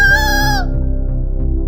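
A rooster gives a loud, close crow that trails off after under a second, followed by a steady low pulsing drone with no speech.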